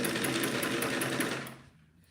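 A sewing machine stitches a zigzag, its steady, rapid rhythmic clatter running close and loud for about a second and a half before winding down to quiet.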